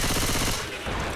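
Rapid gunfire from Left 4 Dead 2 rattles in a dense, loud burst that cuts off partway through, close and harsh.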